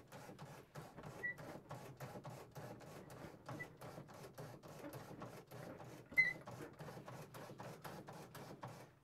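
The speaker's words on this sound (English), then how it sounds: "here's the wobble pump right here. We're gonna wobble up a little bit of fuel pressure" Repeated mechanical strokes of a hand-operated wobble pump building fuel pressure on a Sikorsky S-39 aircraft, a steady run of closely spaced clacks with a louder knock near the end, heard close and alone.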